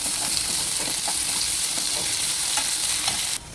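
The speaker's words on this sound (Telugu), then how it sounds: "2 చెంచాల ఉప్పు వేసుకొని బాగా కలుపుకోవాలి" Bottle gourd curry browning in a pan as turmeric and salt are stirred through, a steady loud sizzle with rhythmic scraping strokes of the spoon, fairly close, with no talking, dropping off sharply near the end.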